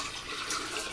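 Water for homemade lemonade pours into a pitcher as a brief, steady, close splashing rush.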